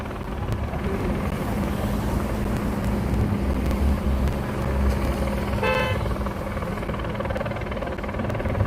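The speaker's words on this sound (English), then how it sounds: "Wave hi to the helicopter" A news helicopter drones continuously overhead at a sheriff station in Los Angeles, a steady rumbling thrum with a faint high whine, loud and unbroken, with no clear speech.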